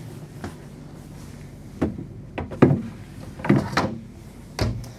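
A drawer in a 2025 Renegade Verona 40VTS Super C RV slides and knocks shut with several wooden clunks and a latch click, close by, in separate short bursts.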